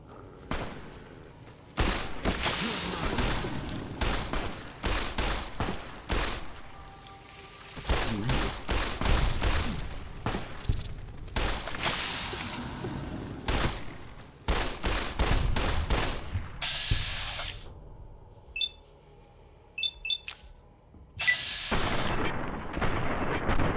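Rapid bursts of pistol gunfire ring out in Fallout: New Vegas, loud and close, in dense irregular volleys with short pauses and a few sharper metallic clicks between them.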